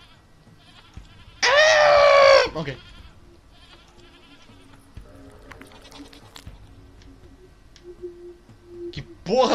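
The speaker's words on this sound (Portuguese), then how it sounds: "Um bode fantasma." A goat gives one loud, drawn-out bleat near the start, then the background goes quiet with faint scattered noises and a brief spoken word.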